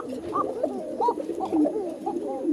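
A pair of Koka pigeons cooing close by, soft, rolling, repeated coos that overlap in a steady rhythm, with no talking.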